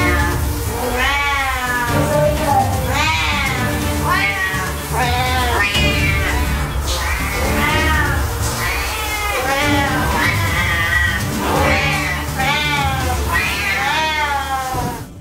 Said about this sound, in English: You're about to see a clip of some chatty Siamese cats